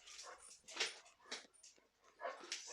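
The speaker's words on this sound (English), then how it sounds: "Anybody want a dog called Optimus?" A pet dog whimpers and yips in a home setting, a run of soft, high, breathy whines in uneven bursts, close but quiet, with no talk over it.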